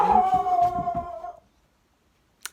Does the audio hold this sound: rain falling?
no